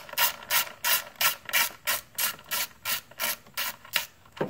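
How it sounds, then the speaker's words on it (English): A ratchet wrench loosens EGR bolts on a V6 Ford Fusion, making about a dozen close, rhythmic clicking back-and-forth strokes with no talk. "I'm going to pull those three bolts out"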